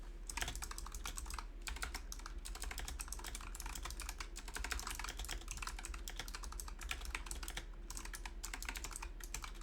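Rapid, continuous keystrokes on a computer keyboard during a Minecraft session, a steady patter of close clicks with no pauses and no talking.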